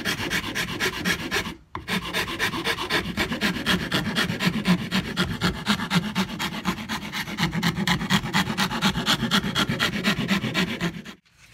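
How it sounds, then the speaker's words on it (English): Hand file rasping steadily along the rounded wooden edges of a cigar box guitar body, a continuous close scraping with a brief break near the start, loud and alone. "And then I just get a file and then just go to town."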